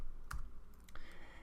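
Keystrokes on a computer keyboard while entering a git init command, a few quick clicks spread unevenly across a short moment, close and fairly quiet with no talking.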